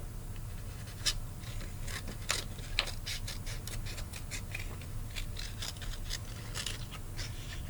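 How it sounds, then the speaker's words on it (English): Scissors snip a small indent into a long craft strip, a series of quiet, close, crisp cuts in irregular bursts over a faint background hum. "I'm going to kind of cut a small indent into that"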